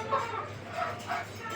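Egg-laying hens in a cage cluck in short, repeated bursts at moderate distance, a low murmur of birds rising and falling over a steady background hum.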